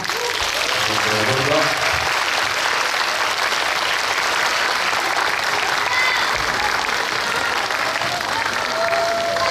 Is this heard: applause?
yes